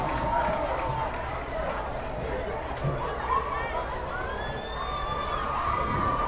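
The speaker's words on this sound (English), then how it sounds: "this Holy Cross cheering section right now, extremely loud" A Holy Cross high school cheering section at a game against Good Counsel keeps up a loud, sustained crowd roar with shouts and whistles rising over a dense babble of voices.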